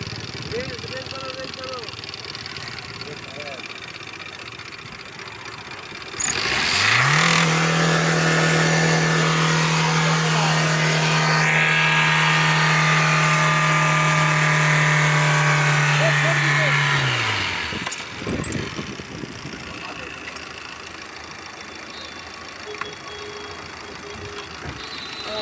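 A Tata Indigo Dicor diesel car with starting trouble and injector back-leakage is revved hard, its engine jumping to a loud, sustained high-rev roar for about ten seconds before dropping back, with people talking nearby before and after.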